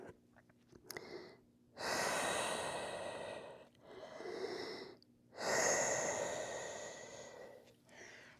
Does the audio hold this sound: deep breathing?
yes